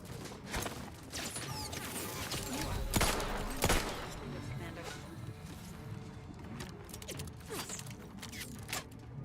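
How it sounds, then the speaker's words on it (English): Enemy gunfire in the Outer Worlds 2 video game: scattered sharp shots and metallic clanks at moderate volume, irregular and mixed with mechanical rattling, with no talk over it. "they're still shooting at me"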